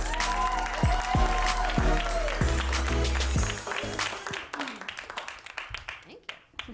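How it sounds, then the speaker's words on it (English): Applause and some cheering from a comedy club crowd greet comedian Casey Larwood, beginning under a blend of music and voices, then thinning into scattered, fading claps. "A big round of applause for Casey Larwood"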